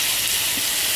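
Cut bell peppers sizzling steadily in a hot pan on a home stove, a constant bright hiss and crackle of frying with no voices.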